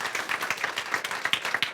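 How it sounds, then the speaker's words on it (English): An audience applauds the event organizers at a talk on habit-forming products; individual claps stand out in a loose, uneven rhythm over a softer background of clapping, moderately close. "let's give a big round of applause to the organizers, Sophie, Charlotte, and Joe"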